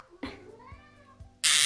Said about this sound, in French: Désolé pour le chat.